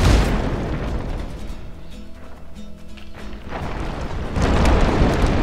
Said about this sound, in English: Oh god, the whole bridge is falling already.